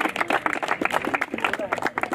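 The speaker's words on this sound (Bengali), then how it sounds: "হাততালি দে একটু সবাই।" People clap for the man of the match at a cricket tournament gathering, a close, uneven patter of hands from a small group.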